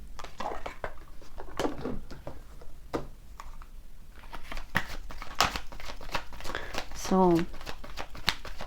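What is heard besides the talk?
shuffling a deck of cards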